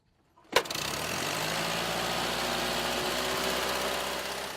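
A vintage car engine, seen at an old-car rally in the Parc d'Armorique in Finistère, fires with one sharp catch after near silence. It settles at once into a steady, even idle that runs on close and alone.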